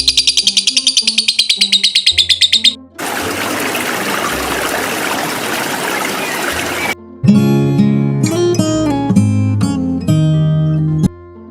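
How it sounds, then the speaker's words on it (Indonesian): Birds chirp and tweet in quick repeated bursts, followed by a rush of flowing water, then bright, sharp calls ringing out loudly. "suara burung berkicau"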